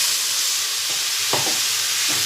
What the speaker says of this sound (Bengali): পেঁয়াজটা লাল হয়ে এসেছে, এবার চিকেনটা ঢেলে দিচ্ছি।